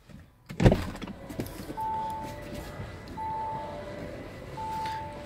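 The electric sunroof of an Audi A7 Sportback opens inside the cabin: a sharp click and thump comes first, followed by a smooth motor hum with faint high whines recurring under low background noise.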